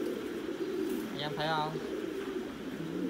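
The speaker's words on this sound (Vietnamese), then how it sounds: "Lúc nào chuồng trại của mình cũng đầy ắp chim bồ câu ra ràng" Pigeons coo in a loft on a pigeon farm raising squabs, one brief rolling coo standing out against a steady background murmur while someone talks over it.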